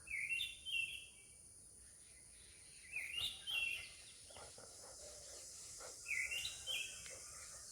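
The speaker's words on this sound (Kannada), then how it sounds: "ಬರ್ಡ್ಸ್ ಇದು ಚಿರ್ಪಿಂಗ್ ಸೌಂಡ್ಸ್" Outdoors, faint bird chirps come in three short bursts of two or three quick tweets each, spaced a few seconds apart, over a soft steady background hiss with no talking.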